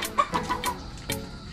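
A mother hen clucks in quick, short bursts close by, a few rapid clucks followed by a louder squawk.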